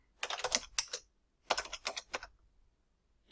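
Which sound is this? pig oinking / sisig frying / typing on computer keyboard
typing on computer keyboard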